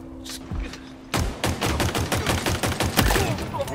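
Hydra weapon fire in the shooter game Halo Infinite, a rapid string of loud thumping shots in quick rhythmic succession after a brief quieter lead-in, standing alone without talk.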